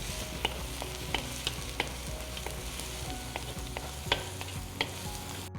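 Onion frying in a pan until light brown, a steady close sizzle with a scattering of small pops and occasional stirring clicks, continuous throughout with no talk.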